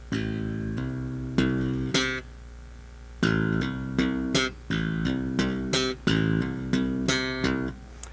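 Bass guitar plays short groups of thumb-plucked and hammered-on notes in a repeating rhythmic pattern, close and clean, with brief pauses between phrases.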